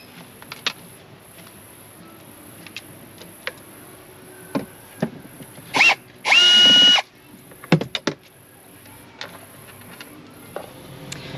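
Power drill backing screws out of a small separating composting toilet during a tiny-home bathroom install, in several short whirring bursts of varied length, one longer run near the middle, with ratcheting clicks and handling knocks in between.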